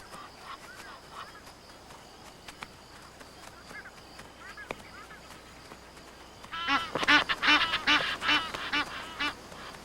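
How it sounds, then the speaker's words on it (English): A pair of Egyptian geese honk and cackle in a burst of loud, rapid calls close by, after quieter scattered calls earlier over a soft outdoor background. "The females are more interested in investigating a pair of Egyptian geese."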